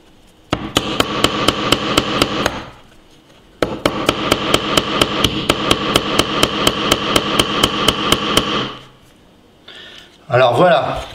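Hammer repeatedly striking the metal edge of an Oukitel K4000 smartphone during a nail-attack durability test: rapid, evenly spaced metallic blows in two long runs separated by a short pause, loud and close, with a brief voice at the end.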